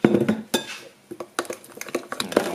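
Flour being stirred into a batter of egg yolk and sugar in a bowl, with a utensil clinking and scraping against the bowl in quick irregular bursts, close up and with no talk.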